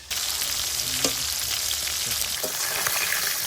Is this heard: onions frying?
yes